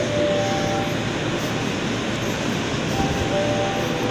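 A train rumbles steadily at Manggarai station, a dense, continuous roar of rolling wheels and machinery with no voices.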